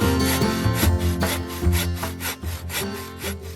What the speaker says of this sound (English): Back at the shelter, we made some firewood.